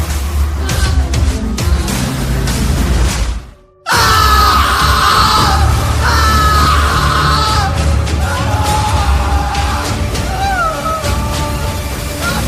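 Shrill, harmonic screams ring out through a car crash horror story, loud and sustained over a dense roar, broken by a brief near-silence before resuming with wavering cries.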